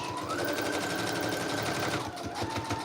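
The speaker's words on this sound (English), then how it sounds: "I'm going to do my absolute best to sew right down the center." A sewing machine stitches down the center of a handmade paper journal, running in a steady, fast, close mechanical chatter that briefly pauses and shifts pitch near the end.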